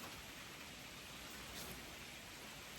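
Steady, soft patter of light rain, an even wash of hiss with no distinct drops standing out and no voices.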